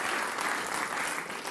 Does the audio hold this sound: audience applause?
yes